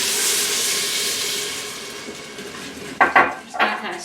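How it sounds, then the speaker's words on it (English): Metal utensil scraping across the bottom of an Instant Pot while cooking orange chicken, a steady close scrape followed by a few sharper clanks against the pot. "Just going to kind of scrape along the bottom."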